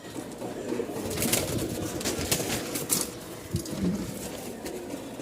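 A pair of Light Biscuit pigeons coo softly in a loft setting, low repeated murmuring calls mixed with sharp taps and rustles of wings nearby.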